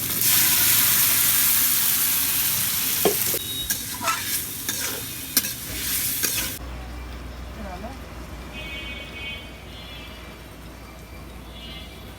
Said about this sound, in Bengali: আদা রসুন ভাজা হয়ে গেছে, এদিকে বেরেস্তাও ভাজা হয়ে গেছে ফোড়নে